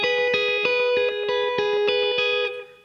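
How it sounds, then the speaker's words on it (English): Slide guitar notes picked in a steady linear scale, each plucked note left ringing so the tones overlap into a sustained, slightly effected wash before fading out at the end. "Instead of hearing them ringing out like this"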